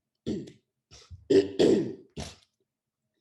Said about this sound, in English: Clear my throat for this one.